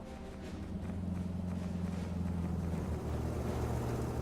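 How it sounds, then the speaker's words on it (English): A car engine in the video game Beholder rumbles steadily with a low droning hum, continuous and moderately loud, with no voices. "Sounds like a new kind of car."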